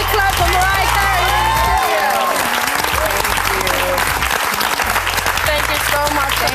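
Loud applause and cheering from a studio audience for a singer at an MTV fan event, a dense continuous wash of clapping with crowd voices, a deep low hum underneath, and someone talking over it.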